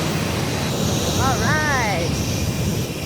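Boeing 787 airliner at an airport before a flight to Denpasar, Bali: a steady roaring engine whine with a rising and falling tonal sweep, loud and close, with a brief spoken word over it.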